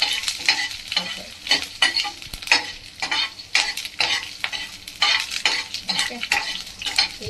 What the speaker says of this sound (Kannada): ಗ್ರೀನ್ ಚಿಲ್ಲಿ ಯಾವಾಗಲೂ ಸ್ವಲ್ಪ ಆನಿಯನ್ಗಿಂತ ಮುಂಚೆ ಹಾಕ್ಕೊಂಡು ಅದನ್ನು ಚೆನ್ನಾಗಿ ಎಣ್ಣೆಯಲ್ಲಿ ಬಿಟ್ಕೋಬೇಕು